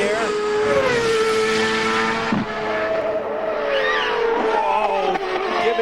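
Franchitti's CART race car climbing the hill toward the Mitchell Bridge at Road America during 2002 Friday qualifying, its engine a loud, steady high-pitched whine that rises and shifts through the run, with a commentator talking over it.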